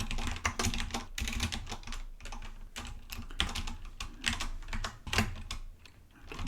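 Steady clicking of computer keyboard keys, close and fairly quiet, with quick irregular bursts of keystrokes and short pauses, no voices.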